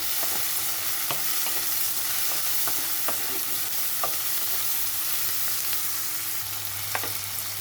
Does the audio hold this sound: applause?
no